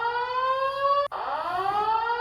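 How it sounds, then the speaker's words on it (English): A video game siren blares as a steady multi-tone wail that cuts out briefly and then resumes with a slightly falling pitch, loud and alone. "That's a new siren."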